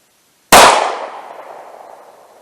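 One sharp, loud 9mm gunshot from a SIG P365 pistol with a 3-inch barrel, firing Winchester Ranger T-Series ammunition outdoors. It cracks out of silence and its echo fades away over about two seconds.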